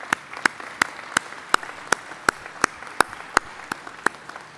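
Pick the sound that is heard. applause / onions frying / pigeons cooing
applause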